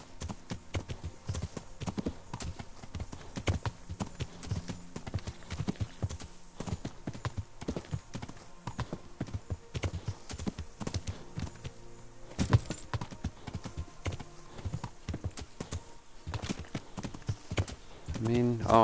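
Horse hooves clatter steadily at a brisk pace in the video game Kingdom Come: Deliverance, dense rhythmic clip-clopping sustained for the whole stretch, moderately loud, with tack and ambient game sounds mixed in.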